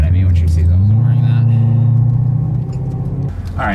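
A BMW E92 M3 fitted with new ARH headers and exhaust rumbles loudly up close, its deep growl rising in pitch as the engine revs, then easing back with a brief burst at the end.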